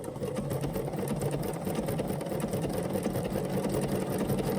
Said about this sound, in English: So go ahead and start stitching a little bit.